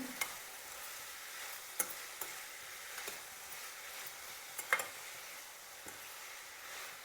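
Vegetable sagu being stirred in hot oil after tempering, giving a faint, steady background sizzle with light scraping clicks of a spoon against the pan at irregular intervals.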